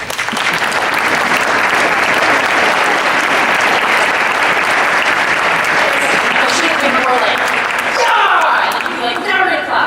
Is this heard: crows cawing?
no